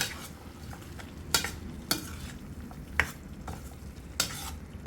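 Masala with egg and potato is stirred and fried in a pan: a steady sizzle runs under sharp spoon scrapes and clinks against the metal that come every second or so.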